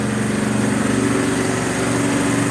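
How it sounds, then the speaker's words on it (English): An air compressor runs loudly and close by in a garage, a steady droning motor with a constant low hum and even mechanical pulsing, no talk over it. "Excuse the air compressor. She's a little loud."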